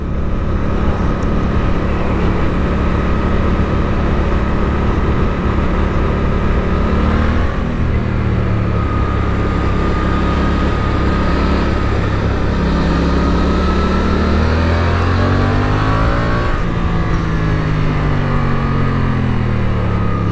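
A Suzuki GSX-8S motorcycle engine pulls hard in second gear with traction control on, its loud steady drone rising and falling in pitch through two acceleration sweeps, wind noise underneath.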